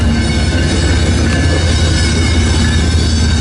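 Loaded coal train rolling past close by, a loud steady roar of wheels on rail with metallic squeal and rumble and no break in the sound.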